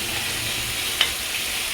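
Hot oil in a pan, ready for dried red chilli and black cumin seeds to be tempered, gives a steady, fairly loud hiss of sizzling throughout with one brief sharp pop near the middle.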